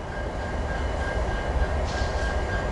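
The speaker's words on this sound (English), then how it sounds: "I should have Metrolink 618 to Laguna Niguel passing me in a couple minutes" Metrolink commuter train 618 rumbles past close by, a steady low roar of rolling cars with a faint high whine, loud and continuous with no talk.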